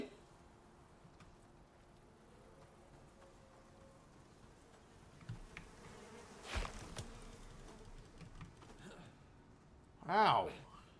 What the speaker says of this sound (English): Bees in this game are kind of evil.